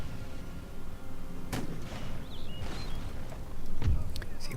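Cannon and musket fire in an Empire: Total War battle, a few sharp distant booms and cracks scattered over a low rumbling background din.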